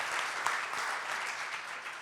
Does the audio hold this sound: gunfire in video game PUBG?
no